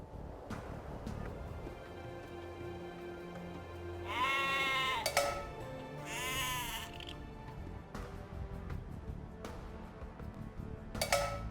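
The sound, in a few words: sheep bleating in video game Age of Empires II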